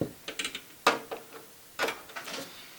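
Small metal PC case thumbscrews being loosened by hand during a graphics card install, giving a few brief ratcheting clicks and scrapes in scattered bursts, close and fairly quiet with no talking.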